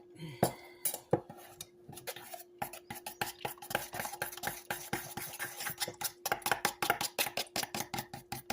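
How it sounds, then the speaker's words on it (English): A spoon clinks and scrapes rhythmically against a bowl while banana pudding and cream cheese pie filling is stirred, the quick taps growing busier and louder toward the end. "we're going to stir it up and see what we get"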